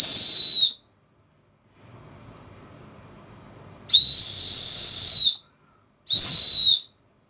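Titanium whistle blown hard at half an arm's length, three shrill piercing blasts: a short one, a longer held one, and a short final one, with quiet room noise in the gaps.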